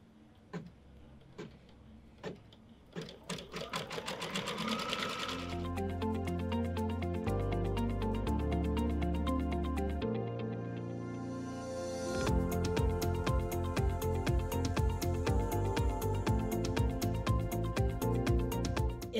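A sewing machine stitches a spiral placement line in green thread for a hearts-and-swirls table runner. A few sharp clicks come first, then a steady, whirring hum that shifts pitch in steps, with no speech.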